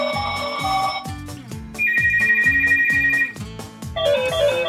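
Electronic phone ringtones from a children's talking toy tablet play one after another, bright synthetic beeping tones over a bouncy repeating melody, loud and close with no voices.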